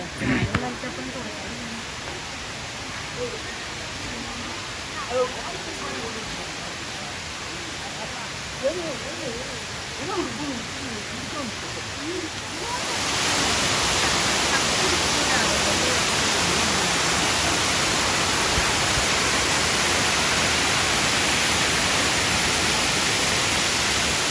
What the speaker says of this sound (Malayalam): ഞങ്ങളിതേ സുരുളി വാട്ടർഫോളിൻ്റെ താഴെ എത്തി